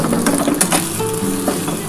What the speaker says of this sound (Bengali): একটুখানি খুন্তি দিয়ে ছোটো ছোটো করে কেটে নেবে